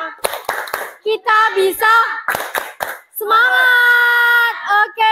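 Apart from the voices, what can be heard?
rhythmic spirit clapping by a class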